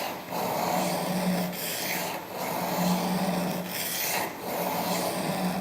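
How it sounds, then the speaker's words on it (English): A knife blade grinds against a sharpening stone under heavy pressure, giving steady rasping strokes that swell and ease in a regular rhythm of about four passes, close and alone. "Notice you can hear the grinding sound because I'm really putting quite a bit of pressure on the knife itself."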